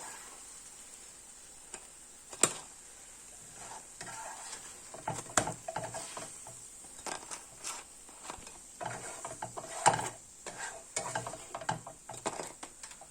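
Katmer, a sweet pastry, fries on low heat with a quiet, steady sizzle, broken by occasional clicks and scraping knocks of a utensil in the pan.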